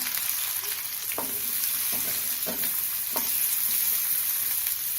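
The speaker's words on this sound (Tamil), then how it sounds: "வெங்காயம் ஒரு நிமிஷம் வதங்கட்டும்" Onion frying in hot oil over tempered mustard seeds, dal and cumin, a loud steady sizzle with a few sharp spatula scrapes spaced through it.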